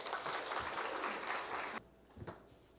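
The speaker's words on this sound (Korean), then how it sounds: "나오실 때 박수로 모시겠습니다" Applause from a church congregation, dense clapping that runs steadily for almost two seconds, then cuts off abruptly, leaving a few scattered claps and quiet.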